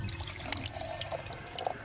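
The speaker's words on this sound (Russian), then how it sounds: "А, здесь можно набрать воды." Water is drawn from a fountain in the video game True Fear: Forsaken Souls, a soft continuous splashing and trickling with small droplet sounds, fairly faint and steady.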